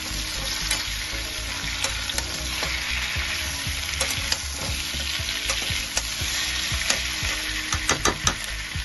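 Whole tomatoes and okra fry in hot oil in a pan, with a continuous close sizzle and repeated clicks and scrapes of a spoon stirring at an uneven rhythm.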